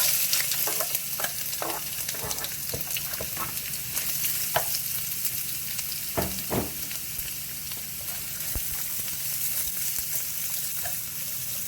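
Carrots sauté in a hot pan for a pork teriyaki rice bowl, with a constant bright sizzle. Scattered clicks and scrapes from stirring break through the frying noise, and no one speaks.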